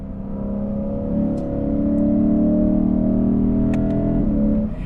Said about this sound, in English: the sound that this makes, the V8 naturally aspirated, it's intoxicating